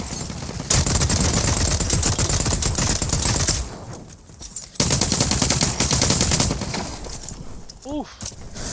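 Rapid automatic gunfire rattles in The Cycle: Frontier, dense bursts of shots striking an enemy in two long volleys separated by a brief lull, with a voice speaking near the end.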